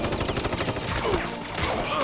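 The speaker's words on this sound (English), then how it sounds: "He's hanging on through multiple gunshots." Rifle gunfire from the video game Final Fantasy VII Rebirth crackles in a dense, rapid volley lasting about two seconds, loud and continuous with sharp repeated reports amid game effects.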